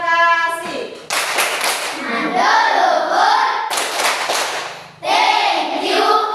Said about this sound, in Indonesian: tepuk terima kasih untuk kelompok 1 yang sudah mempresentasikan hasil diskusi mereka